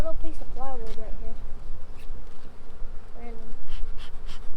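Honey bees in an opened hive hum in a steady, close, loud drone, with brief bits of a voice under the buzzing.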